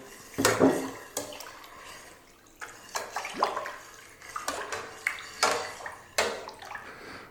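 Sugar stirred into nectarine wine must in a one-gallon batch, a series of sloshing, swirling liquid surges in a container, close and moderately loud, pausing between strokes.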